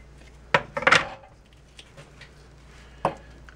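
A knife cuts through a raw chicken, making a few sharp, close knocks and cracks against a board: a quick cluster of hits, then a single knock after a short pause.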